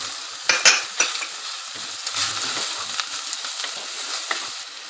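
Salt, red chili, deggi mirch, turmeric and other spices fry in a hot pan for a chicken and chana dal dish, a steady broadband sizzle with scraping stirs and a few sharper clanks near the start, close and with no voices.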